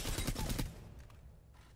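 Rapid weapon fire in Apex Legends, a dense burst of shots for about half a second, loud and close, then tailing off into a quieter echoing decay.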